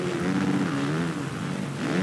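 A motocross bike engine revs steadily in Monster Energy Supercross 3, a close, continuous buzzing drone with a slight dip and recovery in pitch, with no talk.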